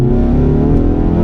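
Ford Focus MK3 ST3 with a Dreamscience exhaust accelerating, a loud steady engine drone heard from close by for a brief moment, no voices.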